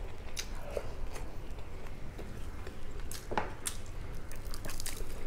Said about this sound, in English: Very crunchy. Crunchy fish.